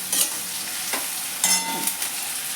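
Spices frying in a pan with sugar and Kashmiri chilli powder for veg manchurian, giving a continuous close sizzle broken by several sharp scraping stir strokes, with no speech.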